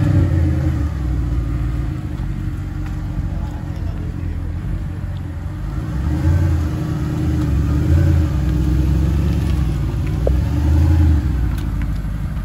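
A 2011 Mercedes SLS AMG's 6.2-litre V8 engine rumbles low and steady nearby, swelling in a few revving surges before settling back.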